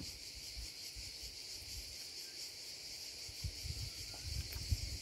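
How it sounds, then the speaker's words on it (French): Cicada chirping in the Tuscan countryside, a faint continuous buzzing drone held steady throughout, with light rustling and low outdoor noise beneath. "On entend un cigale."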